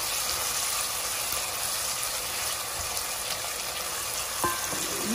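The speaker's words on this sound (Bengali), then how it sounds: "দুটি এলাচ, রসুন, দারচিনি দিয়ে একটু নেড়ে দিচ্ছি।" Cardamom, garlic and cinnamon sizzle in a hot pan during the cooking of chicken rezala, a steady broadband frying hiss with a faint stir or scrape near the end.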